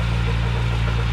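A tractor engine runs steadily with its PTO engaged to drive a fertilizer spreader while planting strawberries, giving a low, even mechanical drone at close range with no talk.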